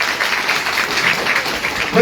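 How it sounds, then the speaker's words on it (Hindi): Students clapping during a school quiz at a Himachal festival in Shimla, a continuous close roomful of hands with faint voices mixed in underneath. "बज चुकी है तालियां"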